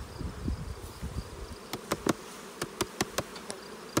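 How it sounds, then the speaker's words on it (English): Bees swarming in a cloud over a truck, a steady buzz outdoors with a run of sharp, evenly spaced taps or clicks near the end. "I have to look at the cloud of bees over the truck now"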